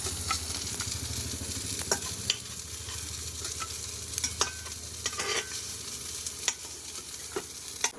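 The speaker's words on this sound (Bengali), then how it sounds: "এই যে মাছ ভাজা হয়ে গেছে তুলে নিচ্ছি" Steady crackling sizzle of catla fish frying in hot oil, close up, with occasional clinks of a utensil against the pan.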